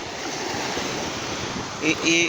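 Sea waves wash onto a beach with a continuous loud surging rush and wind buffeting the microphone; near the end a brief voice and a faint tone rise over the surf.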